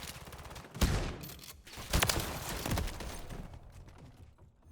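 Several players shooting in a first-person video game with the Bryson 890 gun: scattered bursts of gunfire, two louder volleys standing out among quieter shots, fairly close, with no voices.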